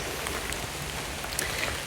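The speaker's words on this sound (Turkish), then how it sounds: "Çok güzel yağmur yağıyor." Steady rain patters down on forest leaves and ground, a dense continuous hiss with scattered nearer drops, no voices.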